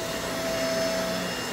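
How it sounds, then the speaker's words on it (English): Continuous motor whine and suction roar of a Riccar Tandem Air vacuum cleaner being pushed slowly over carpet, steady and close, with a faint tonal hum running through it. "when you vacuum, you should vacuum nice and slow"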